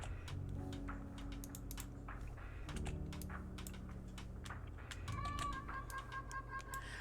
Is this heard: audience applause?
no